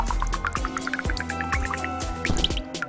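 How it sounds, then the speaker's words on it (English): Water drips from melting snow into an electric radiator in the puzzle video game There Is No Game: Wrong Dimensions, a quick series of clear, close plinking drops over a soft tonal bed. "The snow is dropping into the radiator and it's melted into water!"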